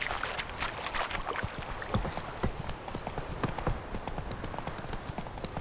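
Horse hooves trotting in the video game The Witcher 3, a steady close clip-clop of quick hoof beats over faint ambient background.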